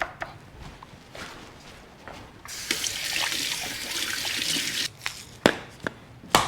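Tap water runs and splashes at a sink while hands are washed during prep of smoked peach whisky chicken wings, a steady hissing stream broken by a few sharp drips and clatters, close by with no talk.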